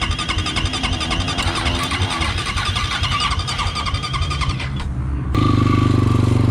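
A 2020 SSR SR300 dirt bike engine starting hot: a loud, steady mechanical whir that suddenly catches into a deeper, fuller idle near the end.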